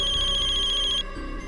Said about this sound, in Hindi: ये फोन कैसे बज सकता है?